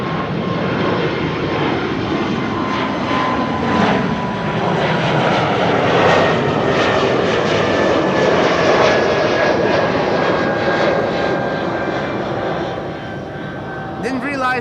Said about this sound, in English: another Austrian flag livery to Vilnius, Air Baltic